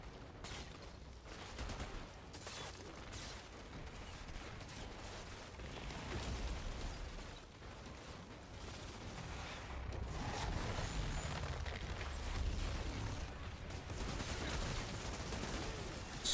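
Gunfire from snipers and other weapons in the video game Outriders, a dense continuous barrage of shots and blasts layered with game noise throughout.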